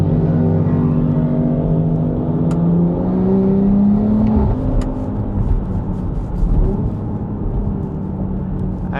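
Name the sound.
BMW X3M S58 engine exhaust note while accelerating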